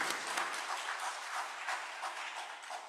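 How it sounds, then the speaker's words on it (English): Steady applause from a crowd, a dense continuous patter of clapping that holds for a few seconds and tapers slightly at the end. "So again, another round of applause"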